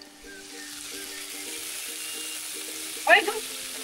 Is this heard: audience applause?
no